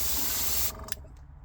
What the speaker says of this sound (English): And now let's spray some red.